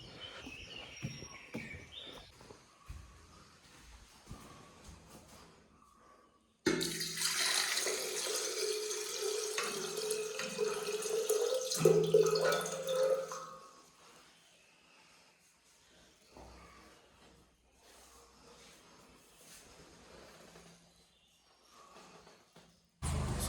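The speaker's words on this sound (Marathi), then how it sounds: "पाणी वरच्या कळसामध्ये टाकूया" Water pours steadily for several seconds into a kalash, a continuous splashing rush that then stops, leaving quiet room tone with faint background noise.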